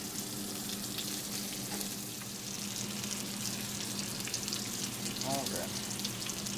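Burger buns toasting in a frying pan beside deer burgers, a steady close sizzle with light stirring noises and a brief spoken word.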